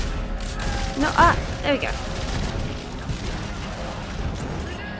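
Dense gunfire and grenade blasts from the video game Dead Space 3 rumble in a noisy, continuous background while a person talks over the action.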